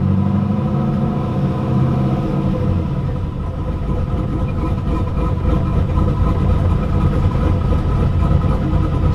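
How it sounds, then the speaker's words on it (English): Turbo Camaro engine running at idle with a little added RPM, a loud close steady rumbling drone with a slight rise in revs, continuous throughout with no talk. "Now it's charging the battery, giving a little RPM, charging the battery."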